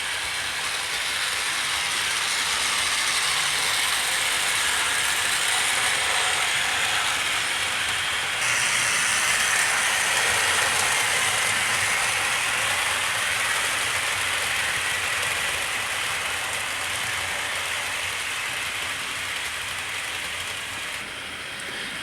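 Princess Royal model train locomotive, with a 4P engine, pulling a long rake of coaches, a steady mechanical clatter and whir on the track that continues throughout at an even, fairly close level.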